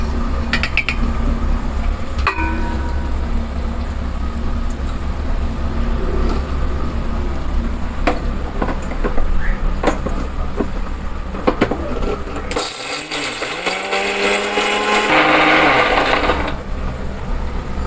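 An electric mixer grinder whirs loudly and continuously as it grinds tomato with garlic, pepper and cumin for a spicy fish curry, with the motor surging harder for a few seconds near the end.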